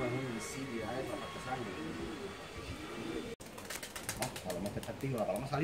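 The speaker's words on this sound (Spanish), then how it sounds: "La paloma salió y el palomo enseguida le salió." Pigeons cooing on a rooftop loft during a pigeon-fancier competition, soft repeated rolling coos heard nearby while someone talks over them, followed by some flapping and rustling.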